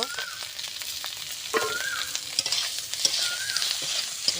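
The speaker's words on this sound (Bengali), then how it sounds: "নিম পাতা তো ভাজা হয়ে গেছে, এবারে ভাজা ছিমগুলো নিমের মধ্যে দিয়ে দেব।" Fried neem leaves and fried flat beans are stirred together in a pan, giving close, repeated scraping strokes over a soft, steady sizzle, with no talking.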